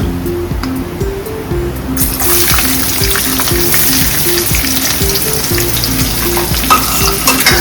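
Onions and peanuts fry in a hot pan for batata poha, giving a loud, continuous sizzle with bursts of stirring clatter throughout.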